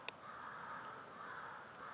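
A few faint, distant crow caws sound over a quiet outdoor background in a winter forest.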